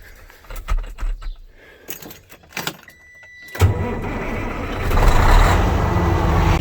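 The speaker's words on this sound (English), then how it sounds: "Wait for the truck to air up." A farm truck hauling a fertilizer tender sits idling at a field during sunflower planting while its air brake system builds pressure, giving a steady engine rumble that swells louder in the second half after scattered knocks and clatter.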